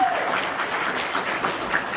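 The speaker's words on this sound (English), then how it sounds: "round of applause" Audience applauds to cast a vote, a continuous, fairly loud round of clapping throughout the brief stretch.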